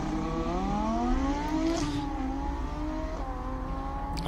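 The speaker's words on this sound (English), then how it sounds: "I love the sound of that Audi." Audi R8 V10 race car revving hard on a hillclimb course, its engine note rising and shifting in pitch with a steady, loud, continuous roar and no voices over it.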